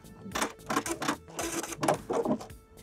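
A sewing machine stitches down the casing of an upcycled sweater leg warmer with a broken zigzag stitch, running in short, quick bursts of rapid mechanical clatter with brief pauses between them.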